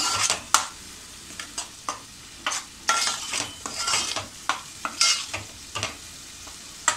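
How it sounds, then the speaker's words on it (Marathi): Raw ground coconut-onion masala sautéed in oil for a Malvani veg kurma: irregular close spatula scrapes and clacks against the pan over a continuous light sizzle, no voices. "मग त्याचा कच्चेपणा निघून जाईपर्यंत आपल्याला अगदी तेल सुटेपर्यंत छान असं परतून घ्यायचं आहे"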